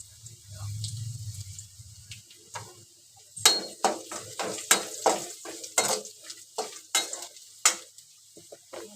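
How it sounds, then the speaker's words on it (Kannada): A spoon clinks and scrapes in a pan as onions fry with mustard seeds, curry leaves and turmeric for drumstick sambar. A low sizzle at the start gives way to a series of sharp metallic taps and stirring strokes. "ಸಾಸಿವೆ ಹಾಕಿ ಚೆನ್ನಾಗಿ ಫ್ರೈ ಮಾಡ್ತೀನಿ"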